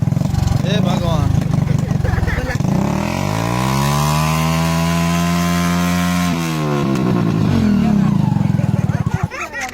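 A close, loud engine with a stone set on it to damp its excessive noise revs up, holds a steady droning pitch for several seconds, then drops back, with rough mechanical chatter around it.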